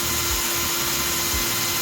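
A power drill whines steadily and loudly as it drives a drill bit into a hole while a blade is being mounted, with a constant high motor tone and no voices.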